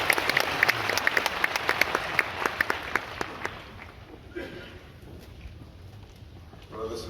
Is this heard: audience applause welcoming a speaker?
yes